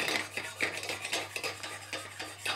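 A vinegar, sugar and dill pickling mix is stirred close by, with quick rhythmic clinks and scrapes of a utensil against the container repeating throughout.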